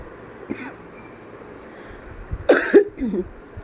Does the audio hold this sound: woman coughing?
yes